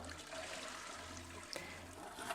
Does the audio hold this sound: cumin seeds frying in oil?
no